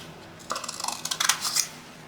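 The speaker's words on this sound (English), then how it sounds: "I'm going to go ahead and I'm going to trim this off." Scissors snip off a strip of folded paper in a few quick, close cuts lasting about a second, with faint crisp clicks of the blades between otherwise quiet moments.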